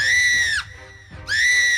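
A woman's terrified scream from a Hindi audio drama, two loud sustained high-pitched shrieks separated by a short pause, with no speech over them.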